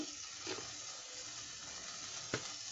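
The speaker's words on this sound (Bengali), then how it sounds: "এটা এখন ভালো করে ভেজে নিব।" Rice with a little turmeric fried in a pan, a faint steady sizzle with occasional stirring scrapes and one sharper clink near the end.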